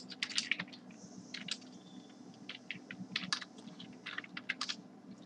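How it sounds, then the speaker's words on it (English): Typing on a computer keyboard while entering values into code, with irregular bursts of close, crisp key clicks over a steady low background hum. "So I'm going to just type in all the values that I need to pass."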